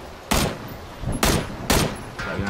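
Three sharp, loud gunshot bursts ring out in a multiplayer shooter video game, evenly spaced about a second apart, with a softer fourth shot trailing at the end and no talking over them.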